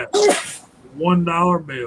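A single sharp, close sneeze bursts out at the start, indoors during a live stream about rifle cartridges, and someone speaks right after it.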